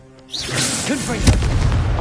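Confringo fire spell in Hogwarts Legacy, a whooshing cast that rises after a quiet start, followed by a loud booming explosion with a rumbling tail.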